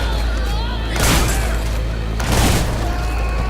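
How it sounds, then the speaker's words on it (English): Gunfire from the video game Hatred comes as two loud, close bursts a little over a second apart over a constant low rumble, with someone talking throughout. "So let's turn him on and shoot him."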